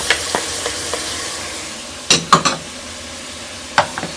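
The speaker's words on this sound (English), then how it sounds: "We're just going to saute everything." Ingredients for rice porridge are sautéed in oil in a pan, giving a steady sizzle broken by a few soft taps and then clear scraping and clinking strokes of a utensil against the pan, with no voices.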